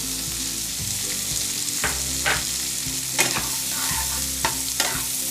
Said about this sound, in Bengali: এরপর আমি রসুনটা একটু লাল হয়ে গেলে এর মধ্যে পেঁয়াজ কুচিটা অ্যাড করে দেবো।